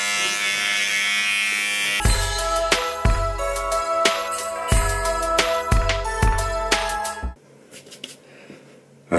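An electric shaver buzzes steadily up close for several seconds, its hum broken by repeated rough bursts as it is pressed and moved against the skin, and it then drops to a faint background noise near the end.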